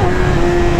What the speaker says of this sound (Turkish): Wow, çok trafik varmış.